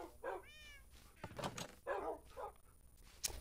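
Dogs in the Minecraft video game give a few short yips, whines and barks in a loose cluster at moderate level, with no talk over them.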